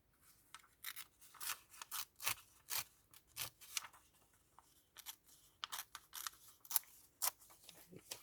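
Scissors snipping paper for a junk journal, a quiet close run of crisp separate cuts in irregular bursts with short pauses between them.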